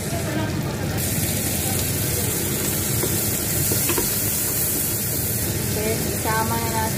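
Garlic and onion sauté in a hot oiled pan, giving a steady, loud, close sizzle throughout with faint clinks of stirring, and no talking.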